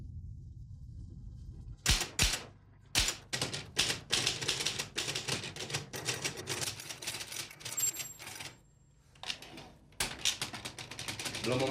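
Rapid typing on a keyboard in an indoor drama scene, clustered bursts of close keystrokes with short pauses between runs, under a low background hum.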